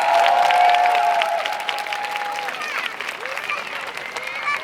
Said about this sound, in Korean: 박수 한번 부탁드리죠